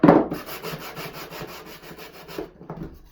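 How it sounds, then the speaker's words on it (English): Sandpaper rubs quickly along the edges of a wooden nest box block, a close rhythmic scratching that starts with a loud stroke and fades toward the end. "I'm just very quickly going to sand these."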